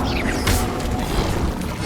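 A loud Incendio fire spell in Hogwarts Legacy, one forceful whooshing burst with a crackling flare that flares up close and then fades into ongoing battle noise.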